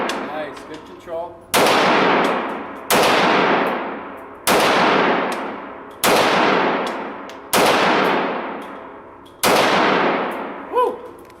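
A Tokyo Marui FN5-7 gas blowback airsoft pistol fires six loud, sharp cracks at steady intervals of about a second and a half, each ringing out briefly, with faint voices before the first and after the last.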